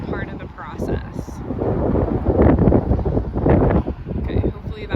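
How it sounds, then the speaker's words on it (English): Strong gusts of wind buffet the microphone outdoors beside a garden bed under construction, loud rumbling surges that swell and fade, with a voice speaking at times. "hopefully that wind calms down"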